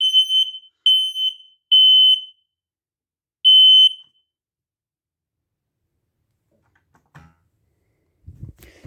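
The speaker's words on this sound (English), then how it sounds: "here's what this one looks like going off in the dark" A smoke alarm in a dark hallway sounds four loud, sharp high-pitched beeps in an irregular pattern, followed by silence and a few faint clicks and rustles.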